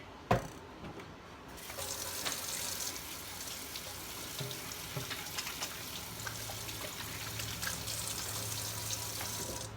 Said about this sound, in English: let's wash up anyway